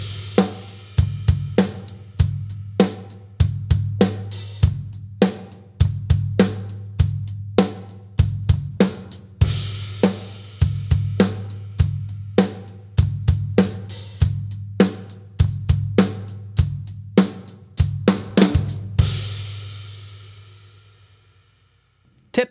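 Drum kit groove with hi-hat accents filling the bars and a crash cymbal only every few bars, steady kick and snare, ending on a long ringing cymbal decay with no talk.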